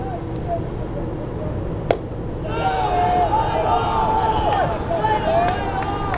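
Chatty baseball team bench at a high school varsity game, a string of shouted calls and chants from the players rising after a sharp crack, loud and continuous over the crowd and field background.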